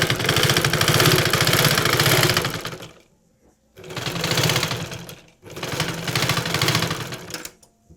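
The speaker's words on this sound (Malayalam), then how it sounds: "ഇതിൽ കൊണ്ടുവന്ന് സ്റ്റിച്ച് ചെയ്ത് നിർത്താം" Sewing machine running in three loud bursts of steady whirring stitches, stitching a front slit churidar top, with short silent pauses between runs and no voices.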